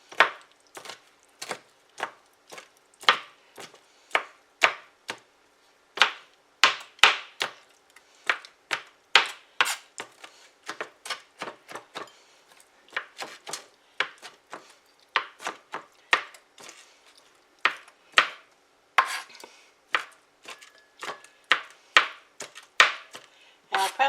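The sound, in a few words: chopping food with a knife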